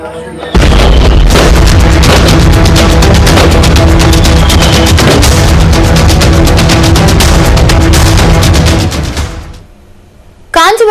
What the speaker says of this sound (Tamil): பட்டாசு ஆலையில் ஏற்பட்ட பயங்கர வெடிவிபத்தில் 9 பேர் உயிரிழந்த சம்பவம்